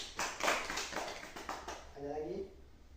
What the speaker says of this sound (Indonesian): Tepuk tangan untuk Doni.